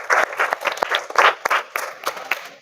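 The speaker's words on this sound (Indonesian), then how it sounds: "Tepuk tangan untuk kita semua." A primary school class claps together during a lesson about caring for plants and animals, a short burst of brisk, uneven hand claps up close.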